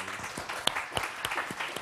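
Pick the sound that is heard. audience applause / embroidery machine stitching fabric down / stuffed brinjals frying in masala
audience applause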